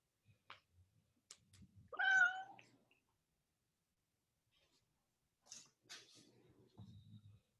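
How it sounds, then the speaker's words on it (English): A cat meows twice, a short call and then a longer, louder one, with quiet rustles and faint clicks between. "I can hear the kitty."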